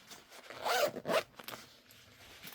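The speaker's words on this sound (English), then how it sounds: "Make sure the zip works nicely." A zipper on a fabric organizer found during a house clearance is pulled open and shut in two quick, close rasping strokes, followed by faint handling noises.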